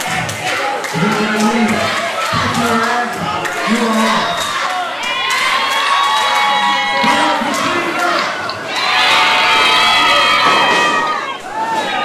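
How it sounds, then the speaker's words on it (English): A wrestling crowd in an underground arena roars and cheers loudly and continuously, with shouts and whoops rising to a peak near the end; voices are heard within the din. "Crowd is absolutely going nuts here."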